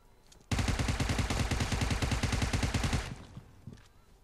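Rapid automatic gunfire in the battle royale game PUBG Mobile, a loud close burst of fast regular shots lasting about two and a half seconds, then a couple of fainter trailing shots.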